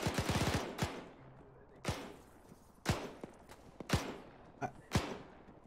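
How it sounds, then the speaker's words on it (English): Machine gun fire in Arma 3 as a weapon cooks off: a quick rattling burst at the start, then single loud reports at roughly one-second intervals over a steady background rumble. "is your weapon cooking off"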